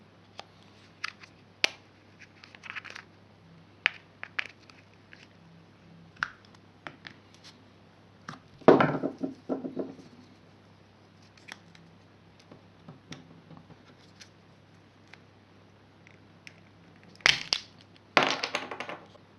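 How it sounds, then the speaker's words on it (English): Plastic Rover key fob case prised open at a tab, heard as scattered small clicks and ticks, then a couple of sharper cracking snaps near the end, close and quiet. "For the new style fob, there's a tab right here, just prise it open."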